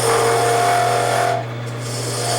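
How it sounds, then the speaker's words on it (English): A tool bores a hole in a wooden workpiece spinning on a lathe, making a close, loud rasping scrape over a steady motor hum that eases slightly partway through. "stick it in, bore the hole, and then rake it back out"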